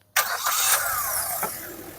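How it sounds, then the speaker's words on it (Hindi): A Maruti Suzuki Victoris with a 1.5 litre CNG engine cranks and fires up, catching abruptly and then settling into a steady, close idle hum with a brief revv blip partway through. "तो कुछ ऐसा साउंड करता है इसका इंजन।"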